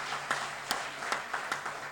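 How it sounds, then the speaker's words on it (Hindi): An audience claps at a Hindi comic poetry gathering, a kavi sammelan: a soft, steady wash of applause with sharper claps breaking through at fairly regular intervals, heard at a distance and fairly quiet. "एक बार ऐसे प्रधानमंत्री के लिए भी जोरदार तालियां बजाएं साहब।"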